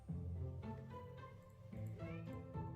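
A pet cat named Tuna makes soft murmuring meows indoors, a few quiet, wavering chirps and mews spread across a couple of seconds.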